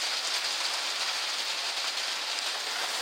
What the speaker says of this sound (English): It's absolutely pelting it down.